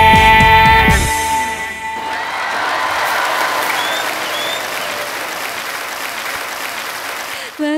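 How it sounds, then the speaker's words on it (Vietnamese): An audience at a live Vietnamese music and comedy show applauds after a song, starting as the sung last notes end, then sustained dense clapping for several seconds in a large hall before a voice cuts in. "rất là cảm ơn những tràng vỗ tay của quý vị ạ"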